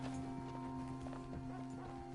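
A horse in a video game gallops away with rapid, rhythmic clip-clop hoofbeats over a steady background hum.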